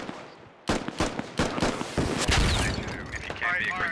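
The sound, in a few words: gunfire and rockets in the video game Squad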